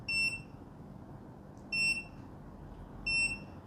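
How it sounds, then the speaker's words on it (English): An EcoFlow Delta 2 portable power station gives three short, high electronic beeps evenly spaced about 1.5 seconds apart as its settings are changed, each tone clear over a low background hum. "you'll hear the beep on the EcoFlow Delta 2 itself"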